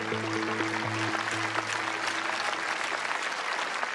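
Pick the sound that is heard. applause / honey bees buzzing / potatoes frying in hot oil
applause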